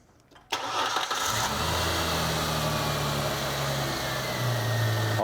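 A car engine cranks briefly and catches, then settles into a steady, loud idle close by, held there without pause during a garage voltage-drop test.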